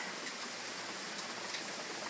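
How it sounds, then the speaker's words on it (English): Steady rain falls as a dense, even hiss, heard from a balcony, with no talking over it. "I love the rain when it rains like this and I'm on a balcony"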